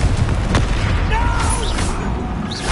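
A Confringo spell blast in the PS5 video game Hogwarts Legacy lands as a loud, dense boom, followed by whooshing magical effects and rumbling that fill the whole stretch.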